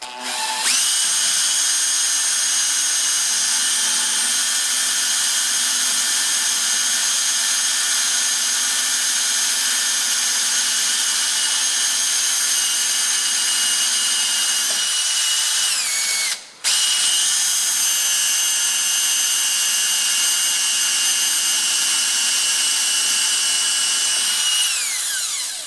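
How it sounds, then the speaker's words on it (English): Power drill boring a pilot hole into the rear axle of a Massey Ferguson 35X tractor, a loud steady high-pitched whine that runs continuously, dips briefly once midway, then resumes at full pitch. "we'll just drill a pilot hole"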